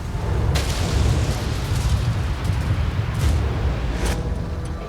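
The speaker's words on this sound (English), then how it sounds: "A vapor cloud explosion occurred almost immediately." Deep, sustained rumbling roar from a vapor cloud explosion at a large UK fuel storage depot, loud and continuous throughout with a few sharper bursts cutting through the low boom.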